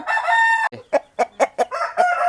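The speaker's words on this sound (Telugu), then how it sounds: "సో ఈ కోడి పుంజ అయితే సేల్కి పెట్టడం జరిగింది" A black rooster offered for sale crows loudly and close, one long drawn-out call followed by a run of short clucking notes and a second crow, with no talk.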